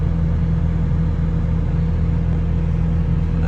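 A Sany 155U excavator's diesel engine runs steadily, a loud, constant low rumble with a deep tonal hum and no voices.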